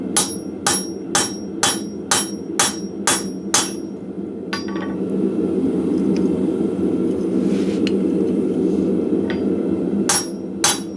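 A hot rivet is struck with a blacksmith header tool, nine sharp, evenly spaced hammer blows ringing close by, then a pause over a steady background rumble before two more strikes.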